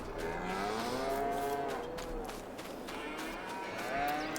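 Cows mooing in Farming Simulator 22 while the herd is fed on a farm pasture, several drawn-out bovine calls overlapping steadily at moderate loudness over a low background hum, with no talking.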